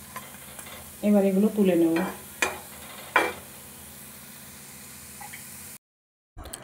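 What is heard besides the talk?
raw banana kofta balls frying in oil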